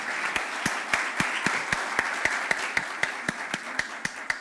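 An audience applauds after a lecture at a communication and evangelization event, sparse and fairly distant, with a few distinct sharp claps standing out in a loose, uneven rhythm over softer background clapping.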